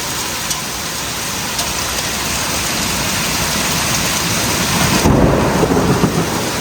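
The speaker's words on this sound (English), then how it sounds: "That's a lot of rain." Heavy, steady downpour roaring close by, with deep thunder rumbling underneath and a louder surge of rain near the end.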